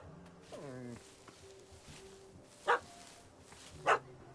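A puppy gives two short, sharp yaps a second apart, clear over quiet background, after a brief whining, rising vocal sound earlier.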